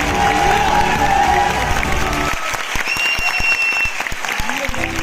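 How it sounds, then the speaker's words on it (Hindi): Audience at a direct selling business seminar applauding, loud dense clapping mixed with crowd noise and music, the clapping continuing strongly throughout. "कौन है तो मुस्कुरा के ताली बजा लो।"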